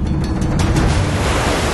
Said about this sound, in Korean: 365일 파도가 친다는 전설의 해변.